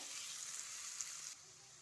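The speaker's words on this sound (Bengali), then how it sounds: "পেঁয়াজ কুচি আর দিয়ে দেবো রসুন কুচি এগুলোকে ভালো করে নেড়ে চেড়ে একটু লাল লাল ভাব করে নিতে হবে" Chopped onion and garlic sizzle steadily in a pan as they are stirred, a faint, even hiss that drops slightly quieter near the end.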